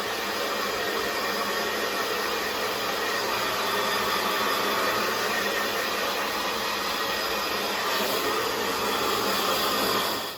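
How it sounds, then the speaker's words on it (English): A steady, loud hair dryer blows continuously with an even whooshing hum and no pauses. "And then I take my hair dryer and I just blow dry."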